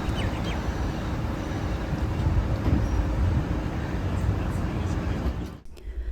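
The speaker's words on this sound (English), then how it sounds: "Today we took the tram to the fish market." A tram rides through Sydney on a rainy day toward the fish market, giving a steady loud rumble and rolling rail noise that continues throughout and dips briefly near the end.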